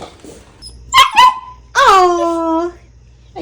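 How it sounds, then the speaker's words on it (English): A dog barks at a running vacuum indoors, a couple of sharp yips followed by a longer whining, howling bark, close and loud, with no talk over it. "Are you barking at the vacuum?"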